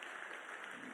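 A church congregation applauds during a Sunday service. The clapping is brief, faint and distant, a soft, even patter lasting under a second.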